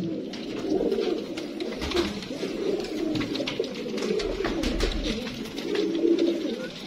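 Sialkoti pigeons coo in a steady, overlapping stream close by, with soft rustling and occasional wing flutters mixed in and no voices.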